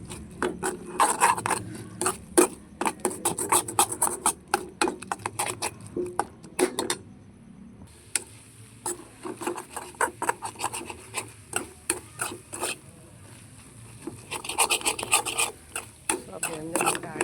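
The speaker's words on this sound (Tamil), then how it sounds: "இது வந்து முட்டை அடி பிடிக்காத அளவுக்கு நல்லா கிண்டிக்கிறோம்." Egg stir-fry is stirred in a pan with repeated scraping and rubbing strokes of a utensil against the metal, coming in quick uneven bursts with brief pauses.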